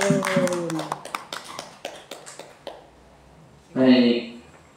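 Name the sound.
class clapping hands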